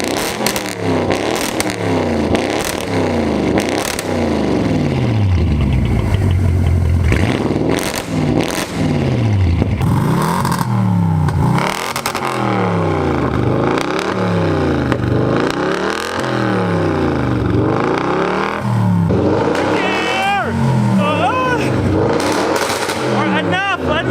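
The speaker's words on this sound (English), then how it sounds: "Listen to first gear pops." An 800 hp Audi RS7 with a full Armytrix exhaust repeatedly revs and accelerates in first gear, with loud, rhythmic rising engine surges and crackling pops on each lift-off. A voice is briefly heard near the end.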